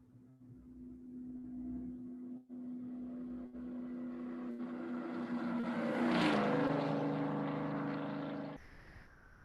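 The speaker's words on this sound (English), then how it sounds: "how the car sounded higher pitched at first and then became, and the waves were getting pushed closer together" A car passes by with a steady engine hum that swells as it nears and then drops in pitch as it moves away, a clear Doppler shift, before cutting off abruptly near the end.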